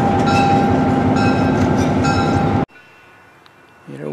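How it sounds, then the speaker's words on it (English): A diesel locomotive runs loud and close with a steady droning rumble and rail noise, then cuts off abruptly, leaving quiet background with a faint engine hum returning near the end. "A clean running diesel."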